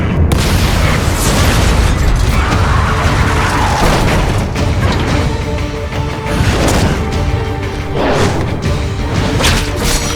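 A rocket launcher blast in the Metal Gear Rising game lands as loud, dense booms with crashing debris and rumbling, pulsing through the full ten seconds with several sharper bursts near the middle and end.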